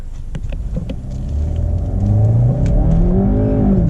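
Cadillac CTS engine surging from a low rumble into a rising rev as the car accelerates hard from a standstill, loud and close, the pitch climbing steadily through the run.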